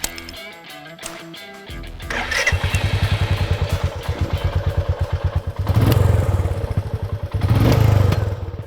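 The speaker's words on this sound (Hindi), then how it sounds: "मीटियोर 350 की एग्जॉस्ट नोट में वो जाना पहचाना रॉयल एनफील्ड थंब मौजूद है" Royal Enfield Meteor 350 motorcycle: a starter clicks and cranks, then the single-cylinder engine catches and settles into a steady thumping idle with a close exhaust note, revved twice toward the end.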